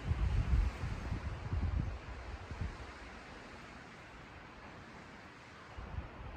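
Wind sweeping across open desert on the Arizona Trail, a broad rushing roar with gusty buffeting against the microphone that eases into a steady softer hiss, no voices.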